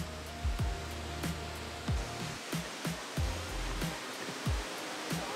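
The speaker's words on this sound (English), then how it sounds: "Beautiful waterfall." A waterfall on a hiking trail in India gives off a steady rushing hiss, with regular soft thuds that sound like nearby footsteps under it.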